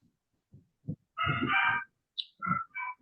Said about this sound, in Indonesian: Barusan saya dengar burung sih.